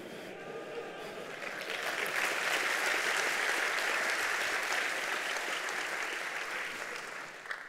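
An audience at a programming conference talk claps steadily for several seconds, a soft, dense, even wash of applause heard from a distance.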